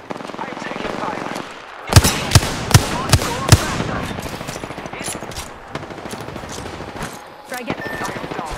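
Gunfire in the battle royale game Apex Legends: a string of five sharp, loud shots, then continuous rattling fire and scattered distant pops under game noise.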